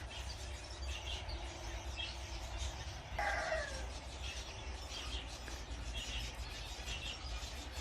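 Pet red-vented bulbuls and zebra finches at an indoor feeder, with a steady mix of small chirps and clucking calls and a brief louder call partway through, over a constant low room hum.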